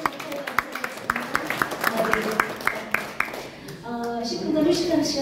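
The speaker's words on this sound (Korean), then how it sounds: "이어서 박수 한번 다시." A seminar audience claps during a session on writing wills: a string of distinct claps that thicken into scattered applause, then fade under a voice that takes over near the end.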